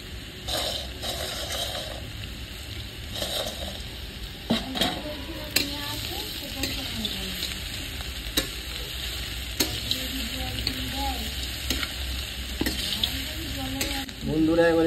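Fried bori and potatoes sizzle steadily in a pan for aloo posto, with repeated scraping and stirring clatters over a constant frying hiss, close and moderately loud, no talk.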